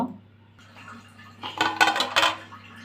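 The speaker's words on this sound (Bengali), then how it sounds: "এখন আমি পাঁচ মিনিটের জন্য এটা ঢেকে রাখবো" A lid goes onto a pot of lachcha semai, producing a close burst of metallic clatter and scraping after a quiet start, then settling, with no talking.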